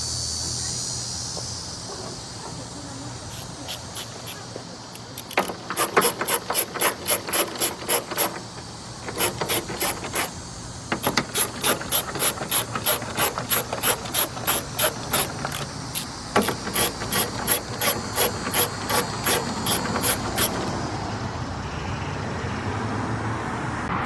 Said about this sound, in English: Now, let's get our 10mm socket.